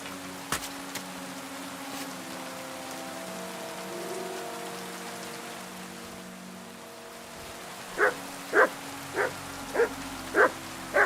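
Mutt the dog in Kingdom Come: Deliverance II barks in a run of about six evenly spaced, sharp barks near the end, after a long stretch of steady rain pattering on surfaces.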